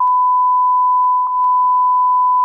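Steady, loud single-tone censor beep held unbroken, bleeping out a word on a podcast, with faint clicks under the tone.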